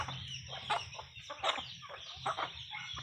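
Chickens cluck and chicks peep close by in a farmyard, their calls overlapping in a busy, continuous chatter without human voices.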